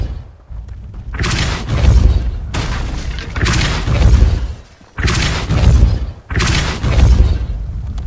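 Repulsor spell blasts in Hogwarts Legacy, four loud booming bursts in a row, each a heavy thump with a shattering rush lasting about a second, separated by short gaps.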